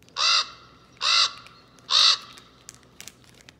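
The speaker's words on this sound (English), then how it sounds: "This is a raven." A raven calls three times in a row, loud harsh croaking caws about a second apart, close and alone, with faint clicks after.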